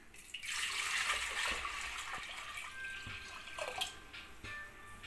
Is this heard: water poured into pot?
yes